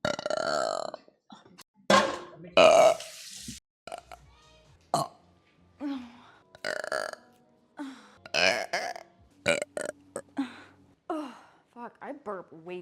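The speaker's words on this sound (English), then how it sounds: "I burp way too much" A young man lets out a string of loud burps, some drawn out and croaky, spaced by short pauses and bits of his own talk and gasps.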